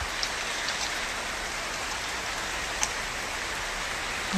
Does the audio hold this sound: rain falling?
yes